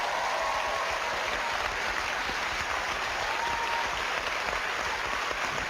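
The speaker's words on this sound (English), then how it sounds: "Give him a round of applause." An audience at a live summer solstice ghost-hunting event applauds, with dense, sustained clapping that stays steady throughout.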